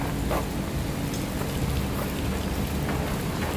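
Steady rain falls in a dense, constant hiss of drops, fairly loud and unbroken, with no voices.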